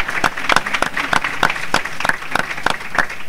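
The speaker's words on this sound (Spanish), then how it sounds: "Mira, un aplauso de entrada." Applause at an anniversary celebration and newspaper launch, with a few prominent sharp claps on a steady beat over a softer background patter, close and fairly loud, with no speech.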